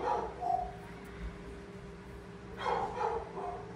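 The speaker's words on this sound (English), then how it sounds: "one of my dogs is barking" Dogs bark indoors from another room, with a couple of muffled barks at the start and another short burst of barking near the end, moderately loud against a quiet room.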